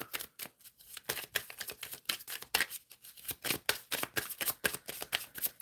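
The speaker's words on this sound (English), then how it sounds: "Shuffling for Amy." Tarot cards are shuffled by hand in a quick, irregular run of crisp riffling flicks and taps, close up and continuous for several seconds without speech.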